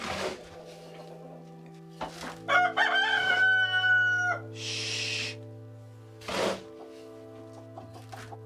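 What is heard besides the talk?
chickens clucking and crowing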